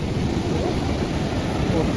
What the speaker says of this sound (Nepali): this is फुत्फुते Jharna oh so beautiful